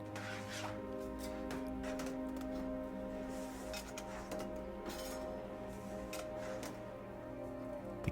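Graphite pencil cores being loaded into metal canisters give light, scattered metallic clinks and taps over a steady factory hum.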